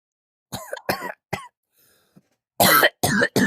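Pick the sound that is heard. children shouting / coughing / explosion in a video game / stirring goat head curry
coughing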